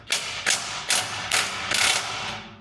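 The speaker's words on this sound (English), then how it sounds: "I'll put a socket on and see if they move." A ratchet socket wrench clicks in quick repeated bursts while turning bolts on a 2024 Jeep JL Rubicon's Hooke Road rear bumper, close and moderately quiet, about five rhythmic ratcheting strokes.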